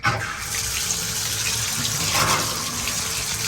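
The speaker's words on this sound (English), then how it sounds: "I'll get my shower thing here. And we'll just go ahead and we'll get it wet, right?" A handheld shower sprayer gushes water steadily onto a part of an Arctic Air Tower evaporative cooler, a loud continuous hiss and splash close by, with no talking.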